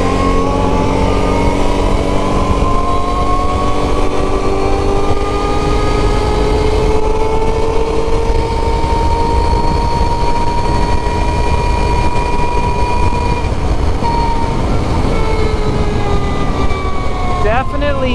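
A Can-Am Renegade 1000 ATV on Tusk Megabite tires rolls along pavement, its engine droning steadily and loud with rising and falling pitch as it accelerates, tire hum underneath, continuous throughout.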